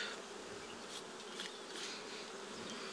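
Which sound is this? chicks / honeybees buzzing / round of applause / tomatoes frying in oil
honeybees buzzing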